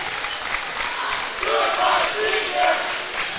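Crowd at a high school basketball game applauds seniors leaving the floor, a steady wash of clapping and cheering in a gym with voices mixed in.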